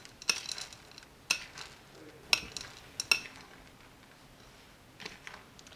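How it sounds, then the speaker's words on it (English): Dry cookie ingredients being stirred in a bowl, with a handful of sharp clinks from a utensil striking the bowl's side spaced a second or so apart over a soft, quiet background, no one talking. "So now I'm just going to mix our dry ingredients together."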